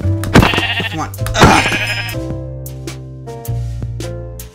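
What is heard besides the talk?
sheep bleating in the video game Minecraft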